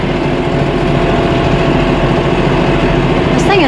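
A truck engine running steadily with a constant low drone while driving, the driver working the clutch and an awkwardly placed gas pedal, loud and close throughout, with a brief higher sound near the end.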